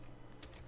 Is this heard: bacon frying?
no